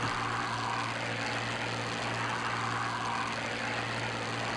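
Hawker Sea Fury propeller engine in Microsoft Flight Simulator at takeoff power, a loud, steady radial-engine drone with a deep hum under a broad roar, sustained and close.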